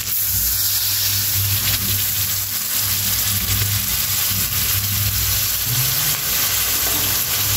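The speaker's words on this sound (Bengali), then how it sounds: "এবার আমি এর মধ্যে জল দিয়ে দেবো।" Water poured into chicken do pyaza frying in a pan, a loud continuous hiss and sizzle with a low rumble underneath, steady for several seconds and without speech.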